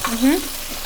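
Chopped onion drops into a hot pan and starts to sizzle, a brief burst of frying over a steady hiss, heard up close.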